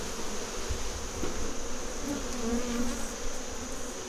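Honeybees buzz continuously in a dense, steady drone, close and fairly loud, with individual bees briefly whining past over the constant hum.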